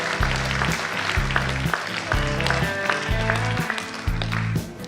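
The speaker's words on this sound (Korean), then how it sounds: "뜨거운 박수로 축하해 주시기 바랍니다." Audience clapping at a prayer gathering for peaceful Korean reunification, heard over loud rhythmic music with a pounding low beat, the applause a busy patter mixed beneath it.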